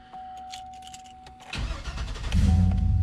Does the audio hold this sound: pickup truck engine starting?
yes